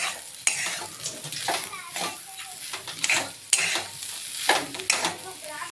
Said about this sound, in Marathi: किस परतत असताना ना आपल्याला कुठेही कढई मोकळी सोडायची नाही